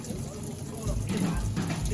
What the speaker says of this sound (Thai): โอ้น้ำไหลแรงมากครับ ไหลแรงจากเดิมเยอะเลยนะครับ